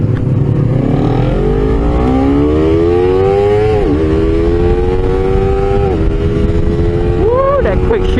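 A Honda CBR 250RR motorcycle accelerates hard with a quick shifter, its engine whine climbing steeply and then dipping briefly at each fast upshift before rising again, loud and close under heavy wind rush.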